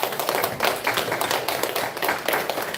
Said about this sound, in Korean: 나오면 다 나올 때까지 박수를 해주죠